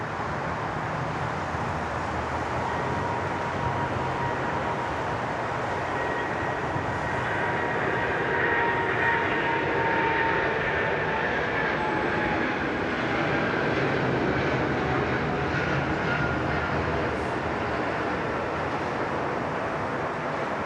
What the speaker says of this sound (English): Let's dedicate this beautiful Thai departure to you. Here she comes, the 777.